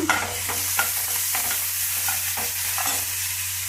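Chopped onion and green chillies frying in hot oil for tomato gojju, an even close sizzle with a series of light spatula stirs scraping the pan at a steady pace, no talking.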